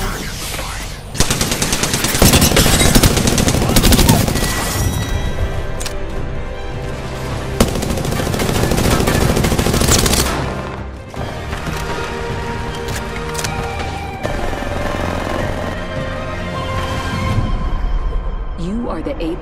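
Rapid automatic gunfire in the Apex Legends video game, with long dense bursts of shots and brief pauses over about twenty seconds, loud and close, with game voice lines and speech mixed in.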